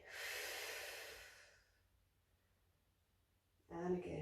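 A strong, airy exhale during a Pilates mat exercise, loud for about a second and a half and then fading into near silence, with a brief voiced sound returning at the end.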